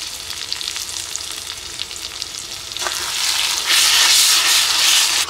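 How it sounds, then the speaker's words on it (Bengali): Ground spice paste of ginger, garlic, cumin, coriander and dried chilli with tomato, turmeric and salt fries in a pot for chicken in a village kitchen, a steady close sizzle that swells louder and hissier toward the end. "মশলাটা এবার ভালো করে কষিয়ে নিই"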